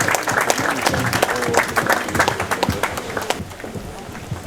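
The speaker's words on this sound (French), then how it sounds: "On peut les applaudir." An audience applauding after a tribute to The Tartan Symphony at a ceremony, loud close clapping with sharp individual claps that thins out toward the end, with voices mixed in.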